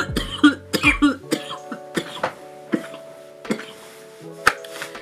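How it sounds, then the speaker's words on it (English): A person coughs repeatedly after smoking a pre-roll, a burst of harsh coughs close up at first, then a string of spaced, quieter coughs and throat clearing. "It even got me coughing a little bit"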